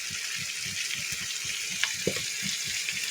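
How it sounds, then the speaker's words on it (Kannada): Turmeric seasoning frying in a pan for carrot lemon rice, a steady soft sizzle with faint stirring taps and small pops underneath. "ನೋಡಿ, ಚೆನ್ನಾಗಿ ಫ್ರೈ ಆಗ್ತದೆ."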